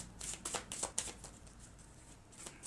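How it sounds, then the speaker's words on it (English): A deck of tarot cards is shuffled quietly nearby, a quick run of soft riffling flutters that trail off into faint handling. "One more shuffle, please."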